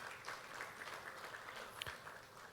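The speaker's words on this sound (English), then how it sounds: "Let's please give them another round of applause" Applause for speakers at a regulator's anniversary event, a faint, steady patter of clapping from a distant audience lasting the whole moment.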